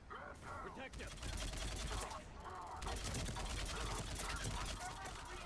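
Gunfire in the Mass Effect 3 video game, with dense, continuous bursts of shots and battle noise at a fairly low level, broken by brief pauses.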